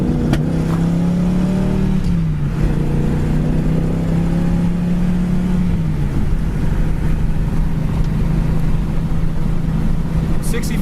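A 1969 AMC AMX cruising down the road, its engine holding a steady drone with a brief shift in pitch, under loud wind and road noise and a voice talking.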